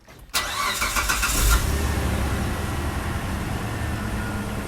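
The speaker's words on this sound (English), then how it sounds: "Let's go into active test and we'll start the car." The engine of a 2004 Mitsubishi Pajero GDI cranks and catches after a short silence, flaring briefly as it fires before settling into a steady, close idle.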